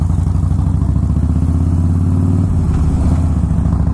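Sportbike motorcycle engine running steadily while riding, a loud, close mid-pitched drone with dense rhythmic pulsing and a slight shift in tone partway through, with no talking.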